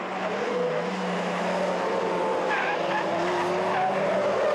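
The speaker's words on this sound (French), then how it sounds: "Blocage de frein pour Cadedou" Tyres of a Renault Twingo race car skidding as the brakes lock up during a French rallycross round, a loud continuous squeal with engine roar underneath that shifts pitch as the car slides.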